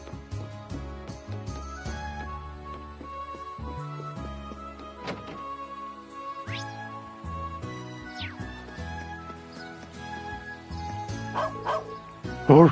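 Dog Pero barking in the video game Trails of Cold Steel, game-style yips and woofs set among continuous background music, with a louder burst near the end.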